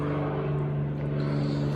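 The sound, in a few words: loud airplanes flying overhead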